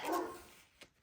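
A dog barks in the background, one short muffled burst at the start that fades into a softer tail, with a faint second yelp near the end, heard alone without talk.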